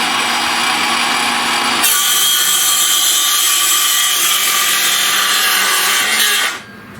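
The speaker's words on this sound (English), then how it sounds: "let's see how this 20-volt max battery does in this M18 saw" A Milwaukee M18 saw running on a DeWalt 20V max battery cuts through wood in one loud, steady pass that ends abruptly near the close. No voices are heard.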